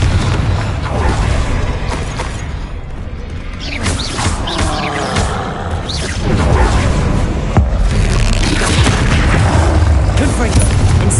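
Confringo spell blasts in the Hogwarts Legacy video game: repeated booming fiery explosions with crackling, crashing debris, dense and loud throughout, overlapping with shouted spell incantations and other voices.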